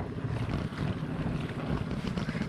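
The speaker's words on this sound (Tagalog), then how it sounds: "Malakas yung hangin" Strong wind roars steadily across the microphone on a lake during traditional net fishing, a constant low buffeting with faint water sounds beneath and no talking.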